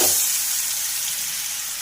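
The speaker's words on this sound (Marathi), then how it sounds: "आणि छानपैकी असं फ्राय करून घ्यायचं आहे आपल्याला हे वाटण" Ground masala paste frying in a pan with mustard seeds, cumin and curry leaves, a steady loud sizzle and hiss with a sharp burst at the start.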